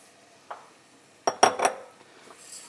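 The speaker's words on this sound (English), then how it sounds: "you can hear the rice toasting away in here" Carnaroli rice being stirred in a pan with softened onion, garlic and butter, giving a few soft scraping clinks and a brief cluster of louder scrapes near the middle, with quiet background between.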